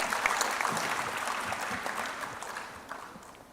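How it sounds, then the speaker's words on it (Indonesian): Audience applause at a conference, dense steady clapping from a seated crowd in a hall, moderately loud and sustained, tapering near the end. "boleh tepuk tangannya sekali lagi Bapak Ibu sekalian"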